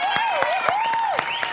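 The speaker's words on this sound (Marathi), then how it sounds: "एकदा जोरदार टाळ्या दोघांसाठी." Audience applause for two dancers at a live comedy stage show comes as rhythmic, evenly spaced claps close by, mixed with a sweeping whistle-like tone and some voice.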